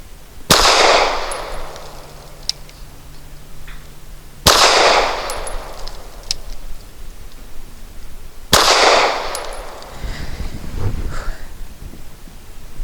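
Three sharp, loud pistol shots from a Taurus G3 firing Remington UMC leadless 124 grain ammunition, spaced about four seconds apart, each with a ringing decay and faint clinks between.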